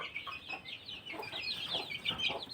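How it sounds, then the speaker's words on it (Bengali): Chicks and chickens clucking and peeping in a busy cluster inside a cage on a poultry farm, steady overlapping calls at close range with no talking. "এটার মধ্যে অনেকগুলো মুরগি বাচ্চা আছে"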